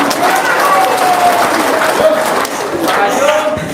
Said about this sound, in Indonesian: Oke, tepuk tangan dong bapak-bapak.